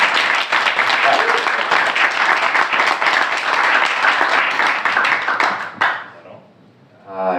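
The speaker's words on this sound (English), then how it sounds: "Please a big round of applause for Nigel Toon." Audience applause for Graphcore CEO Nigel Toon: a loud, dense burst of clapping from a crowd that holds steady, then tapers off near the end as a voice begins speaking.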